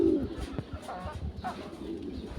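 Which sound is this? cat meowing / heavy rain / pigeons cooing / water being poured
pigeons cooing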